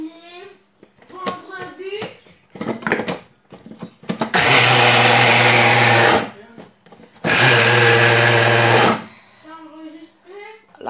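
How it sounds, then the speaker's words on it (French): A blender grinds pistachio in two loud bursts of about two seconds each. The whirring runs steady and close, with short pauses between the bursts, and faint voices come before and after. "maintenant je vais commencer avec le mixage de mon pistache"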